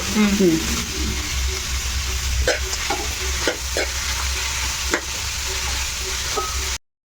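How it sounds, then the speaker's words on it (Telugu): Garlic flakes and tamarind fry in oil with a steady, close sizzle, punctuated by several distinct stirring clicks and scrapes, and a voice is briefly heard early on before the sound cuts off abruptly at the end. "ఇవి బ్రౌన్ కలర్ వచ్చేంత వరకు అంటే లైట్ బ్రౌన్ కలర్ వచ్చేంత వరకు వేయించుకోవాలి"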